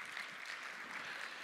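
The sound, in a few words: audience applause for the panel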